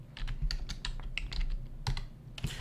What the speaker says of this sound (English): I'm using a different keyboard from what I normally use, so my typing's a little off today